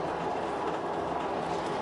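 A passing train heard from inside a moving passenger train, giving a steady, dense rumble of rolling wheels and carriages that holds at an even level throughout.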